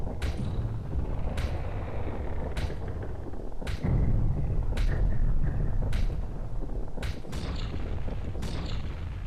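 A heavy door grinds open in the video game Majora's Mask: a continuous low mechanical rumble runs throughout, punctuated by loud clunking knocks roughly every second.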